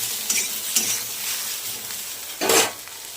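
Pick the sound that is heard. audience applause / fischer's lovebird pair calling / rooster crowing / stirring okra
stirring okra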